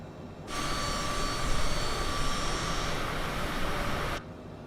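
An aircraft engine drones loudly and steadily with a broad whooshing roar and a thin high whine, the engine note shifting slightly partway through as the throttle is eased back, then cutting off abruptly.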